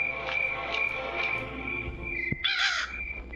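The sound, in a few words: crow cawing in Granny Chapter 3 video game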